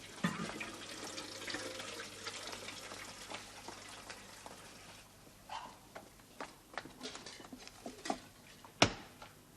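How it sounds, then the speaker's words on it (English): Water runs from a tap into a kettle in a domestic kitchen, a steady soft rushing with occasional clinks and knocks and a sharper clatter near the end. "I will not have hot water in that kettle."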